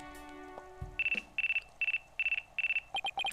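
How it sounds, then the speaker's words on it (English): A phone ringtone in the video game Phoenix Wright: Ace Attorney, a bright electronic trill repeating in five short bursts and then quicker pulses, with a brief thud just before the ringing starts. "Looks like I have a phone call."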